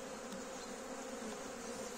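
An opened honey bee hive gives off a soft, continuous buzz from many bees at the nest during an early April spring expansion. The drone stays faint and steady, with no voices.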